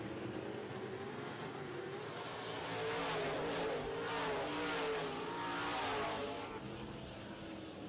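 Modified race cars roar around a slick dirt oval during heat races, engines revving loudly and continuously, swelling as the pack passes close by, with a faint hint of tire noise.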